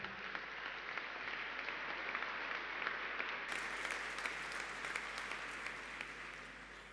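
An audience at a neighborhood-council anniversary seminar applauds to welcome the mayor of San Joaquín, a steady, full round of clapping from many hands that holds across the whole stretch with no voices.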